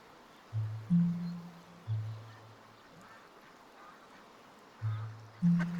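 Ducks in the video game Fragments of Him give loud, low, nasal quacks in pairs, with a pause between bursts and a faint outdoor ambience behind.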